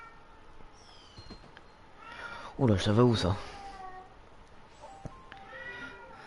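A house cat gives one loud, drawn-out meow close by, midway through, during an afternoon Monopoly game at home. A person talks before and after it.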